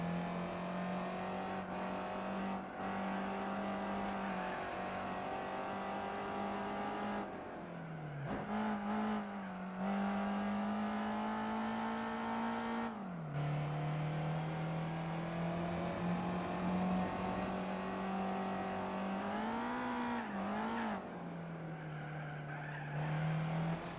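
Race car engine in the video game Gran Turismo 4 during a license test, a steady loud engine drone that holds its pitch with shifts and dips, tires squealing at times, heard alone.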